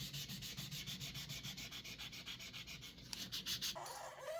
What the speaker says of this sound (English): you just polish it up with micro mesh and sandpaper